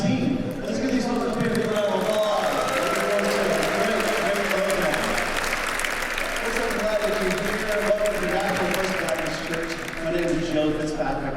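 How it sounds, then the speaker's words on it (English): Congregation applause fills a church sanctuary at a Tuba Christmas gathering at Nashville First Baptist Church, a steady wash of clapping lasting several seconds, mixed with crowd murmur and voices talking over it. "Let's get these folks up here for a round of applause"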